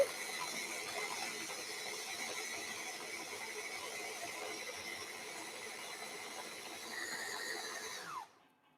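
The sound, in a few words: grinding ingredients down for steamed fish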